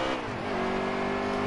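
Race car engine in a NASCAR video game revving up, a loud continuous motor drone whose pitch climbs partway through and then holds at a high, steady whine.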